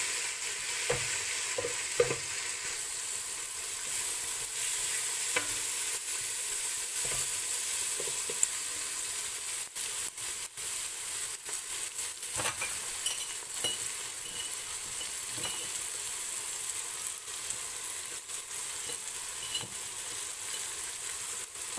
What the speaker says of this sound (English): I'll just stir that in and give it a chance to fry up a little bit to enhance the flavor of the garlic